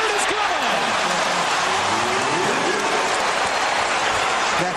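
Basketball arena crowd cheering at a July 2009 game, a steady broad roar of noise under a commentator's voice throughout.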